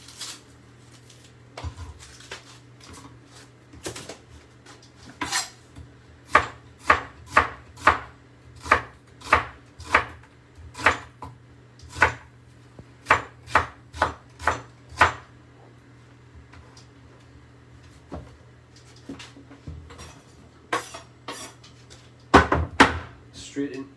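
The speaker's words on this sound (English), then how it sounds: "Just going to remove this skin, slice this up, and then we'll get this into the pan." Half an onion sliced with a knife on a cutting board, a run of crisp rhythmic chops close up with pauses between bursts and occasional board knocks.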